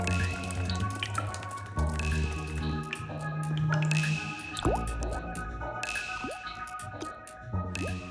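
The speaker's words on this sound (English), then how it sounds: "As the sun's heat melts the snow, water flows out through bizarre and beautiful ice caves." Meltwater drips steadily inside alpine ice caves, with many distinct, close, wet drops and small splashes falling in an irregular patter over a soft trickling background, and no voices.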